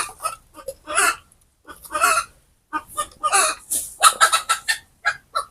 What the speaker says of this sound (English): I think the hen, the cock is disturbing us.